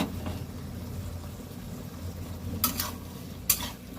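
Taro and potatoes sizzle and get stirred in a pan, steady frying hiss with a couple of sharp utensil scrapes against the pan toward the end.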